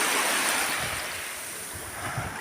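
Sea waves wash steadily onto the shore at an Italian seaside, a broad, loud surf hiss with some wind noise and no talking.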